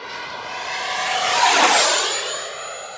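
FMS Integral 80mm electric ducted-fan RC jet making a high-speed pass, its whine swelling as it approaches, peaking overhead, then falling in pitch and fading as it flies away.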